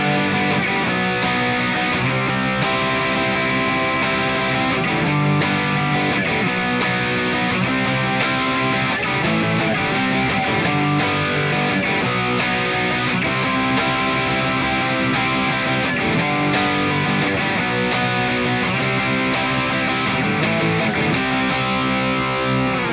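Distorted electric guitar plays the Scotty Doesn't Know chorus twice through, loud, continuous strummed chords in a driving rhythm that fills the whole stretch with no speech.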